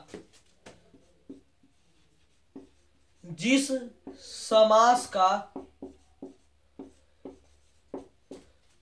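Chalk or marker writing on a board, short tapping and scratching strokes in an irregular rhythm, with a voice speaking in the middle.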